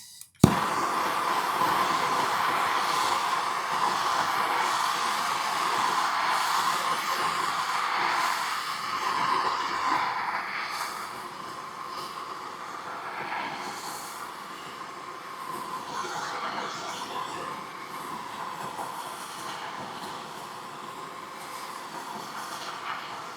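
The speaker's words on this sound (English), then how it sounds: "this is MAP gas. It burns a little bit hotter than butane, but it still does the same job" A MAP gas torch heating aluminium kit car fairing panels, a steady loud roaring hiss of the flame that holds for over twenty seconds after a brief click of ignition.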